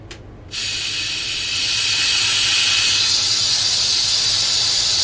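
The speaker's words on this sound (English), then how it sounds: "That's the air sucking in, not going out." Air rushing into the chamber of a Stay Fresh freeze dryer as its vacuum is released, a sudden loud steady hiss that starts abruptly and keeps building slightly in strength, close and alone.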